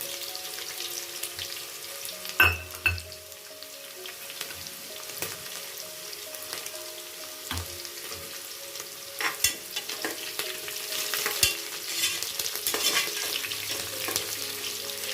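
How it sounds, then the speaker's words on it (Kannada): Onions frying in a pan until golden for fenugreek-leaf pulao, a steady sizzle running throughout with scattered clinks and scrapes of stirring, close and moderately loud, no speech. "ಇದನ್ನು ಒಂದು ಸ್ವಲ್ಪ ಹೊಂಬಣ್ಣ ಬರೋವರೆಗೆ ಈರುಳ್ಳಿನ ಫ್ರೈ ಮಾಡ್ಕೊಳ್ಳೋದು"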